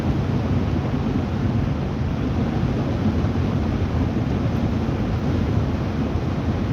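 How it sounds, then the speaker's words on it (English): Strong outdoor wind roars steadily and loudly across the microphone, a dense low rumble with no breaks and no voices. "Oh, a lot of wind."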